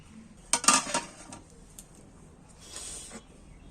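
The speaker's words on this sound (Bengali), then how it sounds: "একটু খুন্তিটা বুলিয়ে দিই দিয়ে একটু চাপা দিয়ে দিচ্ছি" A metal spatula scraping and clinking in a pot of rice and lentils, a short burst of clattering strokes followed by a softer clink as the pot is covered.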